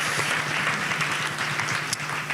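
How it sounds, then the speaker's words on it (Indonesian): A church congregation claps together in sustained, dense applause that fills the room evenly from start to finish, with no voices standing out. "Berikan tepuk tangan kita untuk Tuhan kita."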